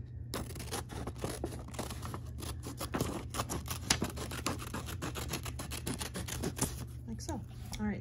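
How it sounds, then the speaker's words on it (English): Scissors snip through folded paper while trimming off an extra flap to make a triangle for a paper dove craft, a close, rough scratchy cutting sound running steadily, with a low hum underneath. "So you just want to cut off this extra flap."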